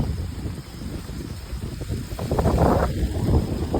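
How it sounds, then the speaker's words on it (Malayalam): Strong, gusty wind roars and buffets the microphone atop a coconut tree as rain approaches, growing louder toward the end, with no one speaking. "എത്ര കാറ്റ് കേട്ടോ"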